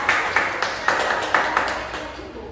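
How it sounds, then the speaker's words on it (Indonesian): Children in a second-grade primary classroom clap together as a group, with a handful of separate, rhythmic claps sounding close and moderately loud before they fade toward the end. "Tepuk tangan dulu untuk kalian semua yang sudah"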